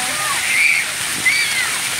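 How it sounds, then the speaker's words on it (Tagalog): Steady, hissing spray of shower water with splashing as children wash off at a poolside shower, continuous and close, with voices faintly present. "Ayan, nag-shower sila dyan."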